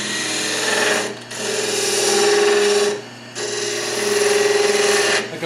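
Wood on a lathe spinning against a skew chisel, a steady raspy shaving hiss with a faint rotating hum, broken by two short pauses as the tool lifts off and goes back in, close and loud with no talk.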